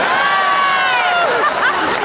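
A studio audience cheers and applauds for the Raptorettes cheerleading squad, with loud crowd whoops and steady clapping over about two seconds and no one speaking.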